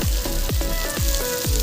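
Taro stolons hit a hot pan of oil with chopped onion and green chili, setting off a loud, close sizzle. A quick rhythmic pulsing repeats about twice per second through the short burst.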